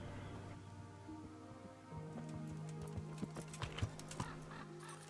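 Horse riding in the Kingdom Come: Deliverance video game brings a faint, rhythmic clip-clop of hooves under a low background hum, with occasional sharper hoof strikes growing clearer toward the middle.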